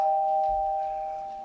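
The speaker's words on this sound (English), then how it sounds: "Clerk will sound the chimes." A legislative chamber's voting chimes sound as a sustained, clear electronic tone, fairly loud and steady, slowly fading over about a second and a half with no talk.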